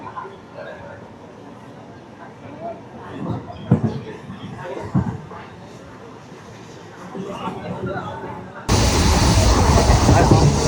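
Near Dankuni junction, a Bardhaman–Howrah chord line super local train runs fast with a continuous rumble and scattered clanks, then a much louder roaring rush bursts in near the end; voices murmur faintly beneath.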